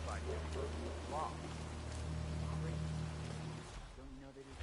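Steady rain falls through a Hitman 3 game scene, a dense continuous hiss with a low rumbling bed, while a person talks over it and the wash thins near the end.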